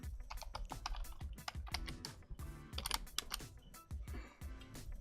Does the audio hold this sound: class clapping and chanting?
no